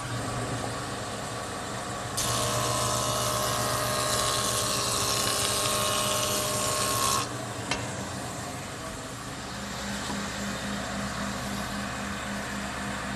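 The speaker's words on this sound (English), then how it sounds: "it's set up with 3 carbide cutters and a heavy wheel that turn at a relatively high rate of speed" Woodworking jointer with three carbide cutters on a heavy wheel shaving about 1/32 inch from a board edge, a loud steady motor hum that jumps into a harsh roaring cut for several seconds before dropping back to idle.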